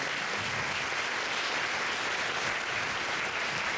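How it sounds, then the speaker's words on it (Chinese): A large audience claps warmly for seven reporters at a Taiwanese event. The applause is steady, dense and sustained throughout, with no voices over it. "请给他们热烈的掌声"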